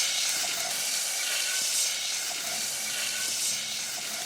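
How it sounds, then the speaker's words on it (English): Cutlets sizzle in a hot frying pan with a steady, fairly quiet hiss and crackle that holds evenly throughout. "I like the sizzle crackle. I like the sputter"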